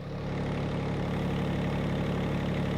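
A small John Deere tractor engine idles steadily nearby, a constant low rumble with no change in pitch.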